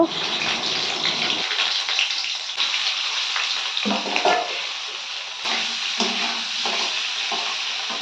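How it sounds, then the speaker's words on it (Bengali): Continuous sizzling and crackling of potatoes frying in hot oil, with occasional stirring scrapes; no voices. "এখানে আলুটা ভেজে নেব"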